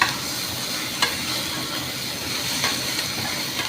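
Chicken hakka stir-fries in a little oil, a steady loud sizzle and crackle with a few sharp spatula scrapes against the pan and no voices.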